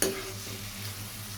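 Loitta (Bombay duck) fish jhuri with chopped green chillies stirred in an open pan, a brief continuous sizzle and frying hiss with faint stirring, heard alone without speech.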